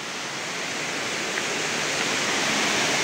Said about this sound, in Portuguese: E aí está, meus amigos, a cascata subterrânea, olha só.